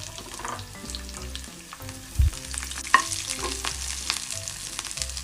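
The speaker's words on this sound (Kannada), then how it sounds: "ಸಾಸಿವೆ ಜೀರಿಗೆ ಹಾಕಿ ಮೊದಲು ಚಟಪಟ ಅಂದಮೇಲೆ ಬೆಳ್ಳುಳ್ಳಿ ಹಾಕ್ಕೊಳ್ಬೇಕು ನೋಡಿ." Mustard and cumin seeds crackling in hot oil for a capsicum fry, a close continuous sizzle with scattered sharp pops and occasional stirring clinks, no voices.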